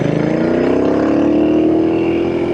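A Royal Enfield INT 900 motorcycle engine revs up close with a deep, bassy exhaust, its throbbing note climbing steadily over a couple of seconds, loud and alone.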